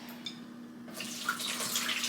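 Water pours off defrosting raw chicken into a kitchen sink, a soft, close splash and trickle that starts after a near-silent moment and continues steadily, with no talking.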